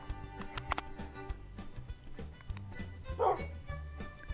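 Dog barking in the video game Minecraft, with a few short barks and yips scattered over a steady rhythmic game background, including one louder burst near the end; no speech.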